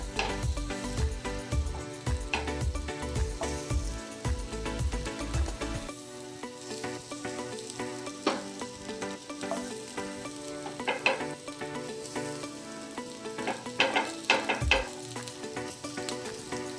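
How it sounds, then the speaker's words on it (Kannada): Potato slices for a crispy rava fry sizzle steadily on a hot oiled tawa, a bright crackling hiss with scattered sharp pops and occasional utensil taps, heard alone and fairly close. "ತವಾ ಕಾದಿದೆ, ಇದಕ್ಕೆ ಸ್ವಲ್ಪ ಎಣ್ಣೆ ಹಾಕಿದ್ದೀನಿ. ಈಗ ಒಂದೊಂದೇ ಆಲೂಗಡ್ಡೆನ ಹಾಕೋಣ ಅದ್ರ ಮೇಲೆ"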